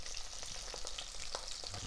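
Salmon steaks fry in a pan with a steady bright sizzle and occasional crackles and pops, close and continuous, with no talking.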